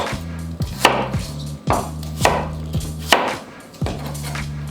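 Apples being cut with a knife on a board, four or five sharp chopping strikes spaced about a second apart, each a crisp close thud, with no talking.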